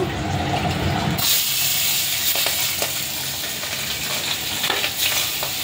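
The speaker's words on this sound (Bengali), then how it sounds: "আর এদিকটাতে আমি যে কড়াইটা বসিয়েছি এটাতে তেল দিয়ে দিলাম মাছ ভাজার জন্য।" Fish fry in hot oil in a wok, a loud continuous sizzle that jumps up sharply after the first second and keeps crackling and hissing up close without speech.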